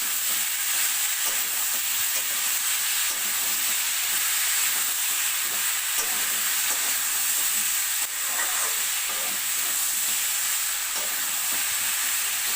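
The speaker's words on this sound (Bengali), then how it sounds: "দিয়ে একটু ভালো করে নেড়ে দেবো।" A thick ground paste of cumin, ginger, black pepper and coriander is being stirred in a hot pan for a Bengali kohlrabi curry, giving steady close sizzling and scraping throughout, with no voices.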